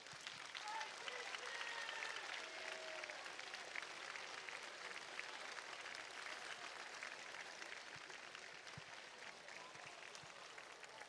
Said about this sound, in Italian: L'applauso di Samugheo.